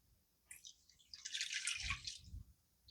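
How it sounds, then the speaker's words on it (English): A cup of water poured into a braising liquid of red wine and chicken bouillon, a close, quiet splashing trickle that starts after a short pause and swells before tapering off. "And then we're going to want a cup of water in that."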